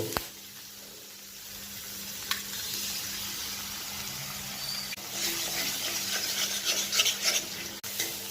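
Egg fries with vegetables in a pan under a continuous close hiss of sizzling and stirring scrapes, growing busier and louder toward the end, with no voices.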